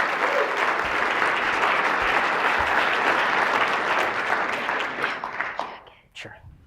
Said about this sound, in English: go ahead and give these guys a big round of applause